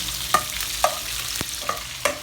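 Garlic and onion sautéing in a pan, a continuous sizzle broken by five sharp scrapes of a spatula at uneven intervals, close and clear with no voices.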